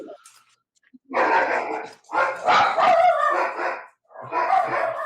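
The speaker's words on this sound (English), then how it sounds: "Can you guys hear my dogs?" Several pet dogs bark and yelp indoors nearby in loud, overlapping bursts, three distinct volleys with brief gaps between them.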